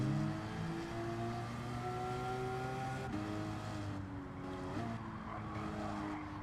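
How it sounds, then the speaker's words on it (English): A race car in Gran Turismo 7, heard from a chase view behind it, holds a steady engine whine with shifting tones as it accelerates and changes gear, continuous and fairly quiet. "Let's hear the car from the back of it."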